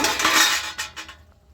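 A pot lid lifted and salt spooned into cooking lentil dal, a short burst of clattering metal and scraping that thins into a few light taps, close by with no talk.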